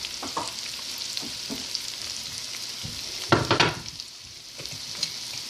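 Spices and pepper frying in hot oil, a steady sizzle with stirring scrapes and a louder clatter of stirring midway, no talk.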